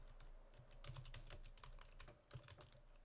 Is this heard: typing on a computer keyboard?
yes